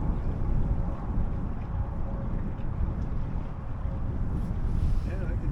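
Water rushing and rippling past the transom of a Wave Rover sailboat under way, a continuous broadband wash mixed with wind buffeting the microphone, steady and fairly loud throughout.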